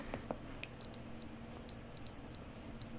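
Repeated electronic beeping from the video game The Stanley Parable, a run of sharp, high, steady tones in short bursts with brief gaps, loud and insistent, with no voices.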